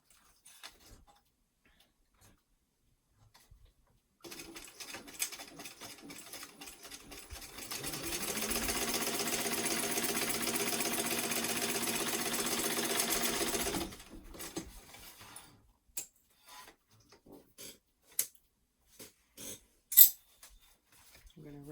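A sewing machine stitches a 3/8-inch seam on a weekender travel bag. The buzzing run lasts about six seconds, with scattered ticks and handling clicks before and after against quiet surroundings.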